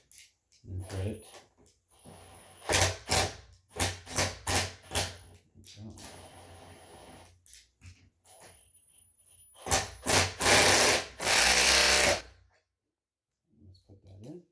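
A 17 mm socket turned in reverse threads a gear puller onto the drive pulley of a Bowflex C6 / Schwinn IC4 exercise bike, giving close metallic clicks, scrapes and jangles in uneven bursts, with several louder clanks.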